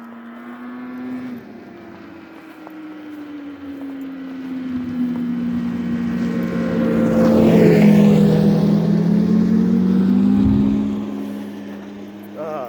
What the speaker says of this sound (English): I hear a snowmobile racing this way.